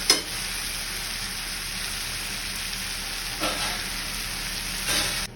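Cashews and onions cooking in a covered pan over a low gas flame give a steady, moderate sizzle that runs through the whole stretch, with a couple of brief louder swells and no voices.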